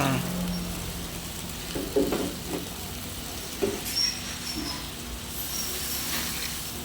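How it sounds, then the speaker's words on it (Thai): Thai red curry paste simmers in oil for a fried tilapia curry, giving a steady close sizzle and hiss with a few soft stirring bumps, no talking. "เราก็มาเคี่ยวพริกแกงเผ็ดนี่นะคะ กับน้ำมัน"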